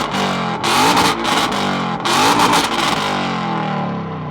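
A car revs its engine hard at a supercar show, loud and close, with repeated surging blips and roars that rise and fall before easing into a sustained rumble.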